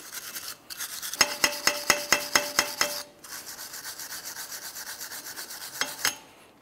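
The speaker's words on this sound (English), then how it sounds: "clean up the mating surface on the hub where the rotor will sit. You can use a wire brush." Wire brush scrubbing the rotor mating surface on the rear hub of a 2011-2021 Jeep Grand Cherokee: a close run of about ten quick rhythmic rasping strokes, then a steadier scrape and one last stroke, with no talk.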